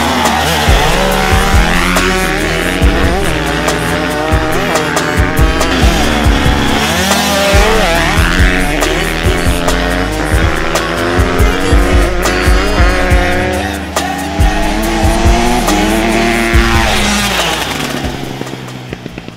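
A 2016 Husqvarna 125 two-stroke and a 2018 Husqvarna 250 four-stroke motorcycle drag race, engines screaming loudly and close through rising gear changes for the full stretch, with no talk over them.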